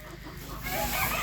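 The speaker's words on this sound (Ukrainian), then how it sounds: "І він до тої курочки кококає, ти чуєш?" A farmyard rooster clucking softly toward a hen, a short burst of low fowl clucks, faint and close, over steady background noise.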